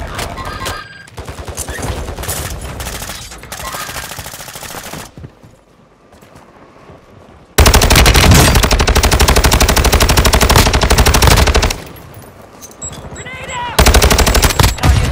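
Heavy automatic gunfire from Call of Duty Modern Warfare II on PS5, loud sustained bursts in long stretches broken by brief quieter gaps, with game voice callouts faintly mixed in.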